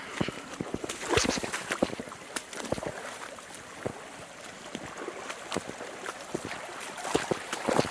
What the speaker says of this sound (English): Oh, no, it's actually raining even harder.